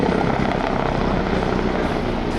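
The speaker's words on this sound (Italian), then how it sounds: "È un elicottero da esplorazione scorta con capacità anticarro ogni tempo da sinistra." An AW129 Mangusta attack helicopter flies at the Jesolo Air Show, giving a loud, steady rotor and turbine roar that fills the whole stretch without letting up.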